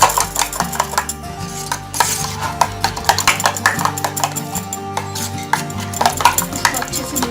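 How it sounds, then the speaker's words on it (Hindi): Egg omelette ingredients for a Hyderabadi street-food omelette being mixed in a bowl: brisk, rapid clinking and scraping strokes in a continuous rhythm, close and fairly loud, with no talking. "ये सारे चीज़ को ऐसे मिक्स कर लेंगे।"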